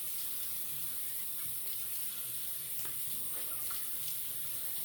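Water runs from a tap in a steady faint stream while a double-edge razor is rinsed, with small splashes breaking the flow.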